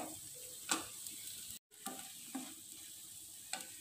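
Arai keerai greens being sautéed in a pan give a faint, soft sizzle with occasional scraping stirs and light clicks of a spatula, heard alone with a brief gap in the middle.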